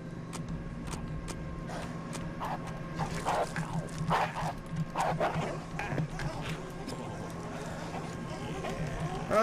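Dogs in the video game Postal 2 bark in a rapid cluster of sharp yips, moderately near, over a steady background hum that rises slightly toward the end.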